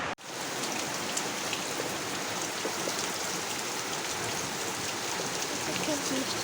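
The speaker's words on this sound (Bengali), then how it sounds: "খুব বৃষ্টি হচ্ছে" Heavy rain pours down in a steady, dense roar of drops that stays loud and unbroken from start to finish.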